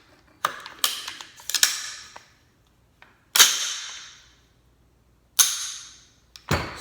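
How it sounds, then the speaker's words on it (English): A Smith & Wesson M&P15 Sport 2 rifle being cycled and dry-fired: sharp metallic clicks and clacks, a few isolated crisp snaps separated by pauses, close and clear with no talking. "now let's put it on fire and pull the trigger. Hear the click"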